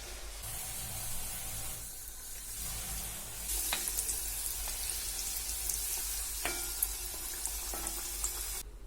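Homemade samosas frying in hot oil give off a steady hiss with scattered sharp pops and crackles, fairly quiet and close, with no voices.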